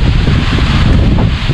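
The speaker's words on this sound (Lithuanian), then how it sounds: "O pranešiu, kad vėjas nurims!" Strong wind buffets the microphone at a house roof construction site where roofing membrane is being laid, a loud, continuous rushing roar with no pauses.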